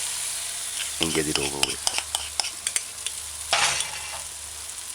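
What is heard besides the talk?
okra fritters frying in hot oil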